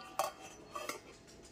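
A lid is set over catla fish pieces rubbed with salt and turmeric, making two faint, light metallic clinks a moment apart against a quiet kitchen background.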